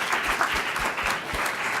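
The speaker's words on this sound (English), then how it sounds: "A round of applause for Olivia for putting all of those together" Brief, fairly quiet audience applause for Olivia after a talk, a soft patter of hand claps from a small room with no voices over it.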